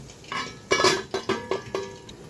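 A metal lid set back onto a pan of stuffed kakrol (vegetarian stuffed spiny gourd) cooking on the stove, giving a few close clinks and clatters in quick succession, with no talking.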